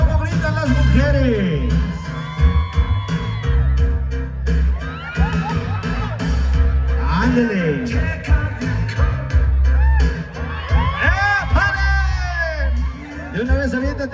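Women at a wedding reception scream and cheer in loud bursts of whoops and shrieks over steady party music, with the crowd noise swelling toward the end.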